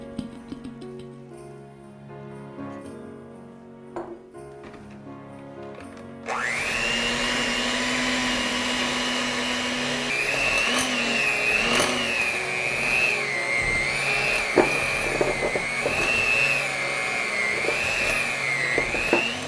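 An electric mixer whirs into cookie dough in a bowl, starting abruptly after a quieter stretch and running loud and steady, its motor pitch wavering as it works through the dough.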